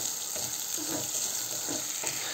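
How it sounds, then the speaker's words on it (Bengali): Onion and garlic fry in oil in a home kitchen pan, giving off a constant close sizzle with faint scraping as the pieces are moved around. "আস্তে আস্তে পেঁয়াজ আর রসুনটা ভাজা করছি।"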